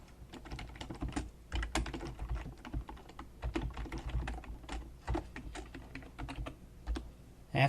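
Steady typing on a computer keyboard while entering code for a circle-area program, with irregular clusters of close, crisp key clicks throughout and no voices.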